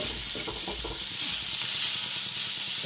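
Brinjal mezhukkupuratti frying in an ordinary non-stick-free pan gives a steady, close sizzle with soft stirring scrapes, continuous and fairly loud throughout.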